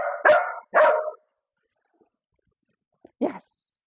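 A dog barks during a training session, giving two loud, close barks in quick succession, then a pause and a single shorter bark.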